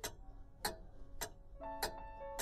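A clock ticking sharply in a steady, even rhythm, four crisp ticks spaced about half a second apart, close and fairly quiet, with a faint tonal chime layered beneath the later ticks.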